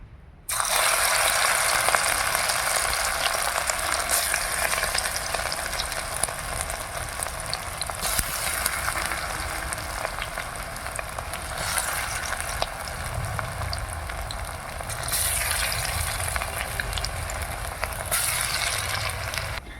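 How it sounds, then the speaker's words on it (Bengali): Bora fritters frying in hot refined oil in a wok give a steady, loud, close sizzle that carries on for the whole stretch, with a few brief swells in intensity and no voices. "তেলের উপরে এবার একটু একটু করে বড়াগুলো ছেড়ে দেবো"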